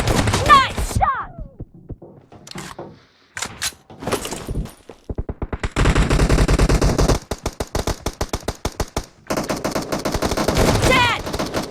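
S12K shotgun gunfire in the mobile battle game PUBG Mobile comes as rapid, loud runs of blasts in long strings, broken by brief pauses and a few scattered thumps early on.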